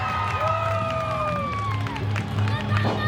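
Packed standing-room crowd at an anime convention match in Las Vegas, loud continuous cheering and shouting with some clapping, voices calling out over a dense roar.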